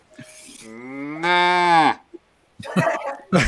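A cow sound effect lets out a long, loud, close moo that rises in pitch and strength before cutting off, followed by brief chatter and noise, played during a tabletop role-playing session.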